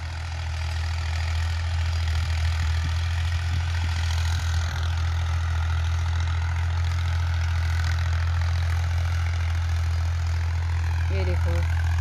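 A Ghazi 85 tractor engine runs steadily with a rooter attachment in a village field, a deep, loud idling rumble droning continuously, with a voice briefly heard near the end.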